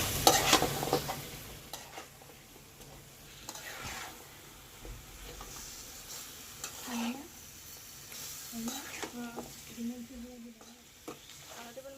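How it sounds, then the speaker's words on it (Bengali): Onions frying in oil in a wok for a vegetable dish, a steady sizzle with stirring clatter throughout, louder bursts at the start, while a person talks intermittently over it. "সবজির জন্য কড়াইতে তেল পেঁয়াজ দিয়ে দেওয়া হয়েছে। পেঁয়াজটা ভালো করে ভেজে"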